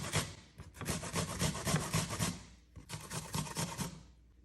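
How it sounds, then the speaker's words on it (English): Whole apples, peel on, rubbed over a grater for a carrot apple salad: close, rhythmic rasping strokes, a short pause, then another run of scraping, all without talk. "Now we're gonna grate some apples."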